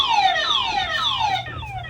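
A loud electronic alarm siren from a solar-powered security camera wails in repeated descending sweeps, close and continuous, with no voices.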